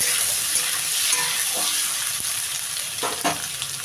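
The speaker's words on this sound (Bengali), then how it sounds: "ছোটো ছোটো গোল গোল করে কেটে রেখেছি আলুটা আমি দিয়ে দিচ্ছি এর ভেতরে" Small round-sliced potatoes fry in hot oil in a pan for a vegetarian potato curry, giving a steady, dense sizzle with occasional stirring scrapes and no talking.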